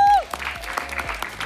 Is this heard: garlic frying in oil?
no